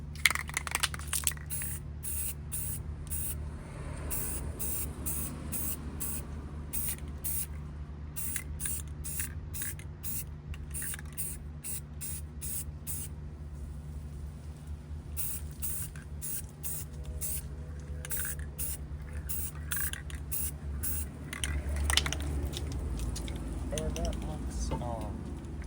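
Spray paint goes onto a Honda S2000 car part in repeated short bursts of close, loud hissing, with brief pauses between passes and a steady low hum in the background.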